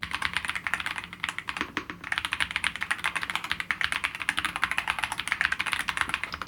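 Rapid typing on an Ajazz AK-650 mechanical keyboard with low-travel Flying Fish switches, a dense run of quick close clicks and clacks that continues steadily with no talking.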